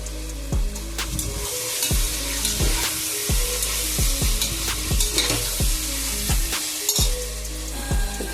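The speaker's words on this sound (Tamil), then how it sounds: "தக்காளி போட்டு வதக்கியிருக்கோம்." Tomatoes sautéing in oil in a pan for coconut milk rice, stirred with steady, rhythmic scraping strokes over a continuous close sizzle, with no voices.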